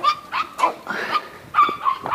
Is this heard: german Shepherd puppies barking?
yes